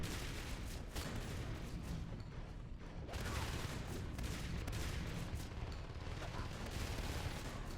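Shotguns fire in the video game Natural Selection 2 amid a match, a rough, continuous crackle of gunfire and booming mixed with game noise, fairly faint, with brief breaks near one and three seconds.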